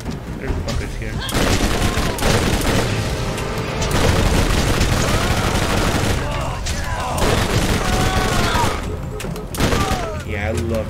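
Rapid, heavy gunfire from a weapon in the shooter video game Borderlands, booming bursts and sustained fusillades over a loud, dense game soundscape.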